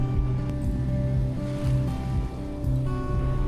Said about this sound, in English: we eased out into the open ocean, gently rolling with the rhythm of the waves